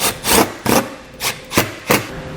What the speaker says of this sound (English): we'll tighten those back down with our 8mm socket